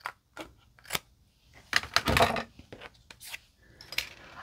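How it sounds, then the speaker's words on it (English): Scissors snip along the top edge of a paper card in a run of short, sharp, close cuts separated by brief quiet gaps. "I'm just going to use my scissors and trim along the top."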